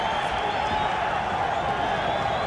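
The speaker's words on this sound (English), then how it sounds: "Crowd trying to get Pazienza going." Dense, sustained roar of a boxing arena crowd cheering on Vinny Pazienza against Greg Haugen, loud and steady throughout with no breaks.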